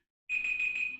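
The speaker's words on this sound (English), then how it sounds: "Hey, that's my alarm going off." An alarm tone goes off abruptly after a short silence, a steady, fairly loud electronic beep sustained without a break, with no voices.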